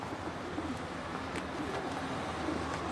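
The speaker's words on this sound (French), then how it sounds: "Le biset a repris sa liberté, mais ne s'éloigne jamais des villes" Feral rock pigeons cooing in an Île-de-France town, soft low coos rising faintly out of a steady wash of urban background noise.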